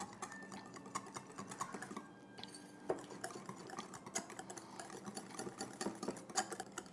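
A whisk gently stirs macaroni salad dressing ingredients in a bowl, producing steady close scraping and light clinking against the sides, continuous over several seconds with no voices.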